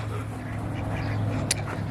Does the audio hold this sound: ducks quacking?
yes